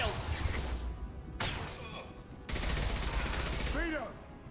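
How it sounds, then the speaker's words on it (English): Sci-fi combat in the Mass Effect video game: a concussive shot and bursts of gunfire, loud and dense in sections broken by sudden cuts, with a short voice near the end. "Firing concussive shot!"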